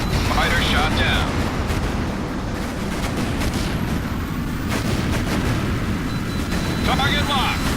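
Heavy jet and combat noise in Tom Clancy's H.A.W.X carries a missile launch and a fighter being shot down, with dense continuous roaring and booming throughout and radio voices talking over it.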